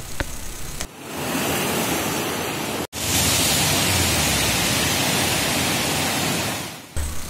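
The swollen Valvanti river rushes fast after heavy rain, a loud, continuous broadband roar of churning water with no voices, briefly cut near the middle before resuming just as strongly.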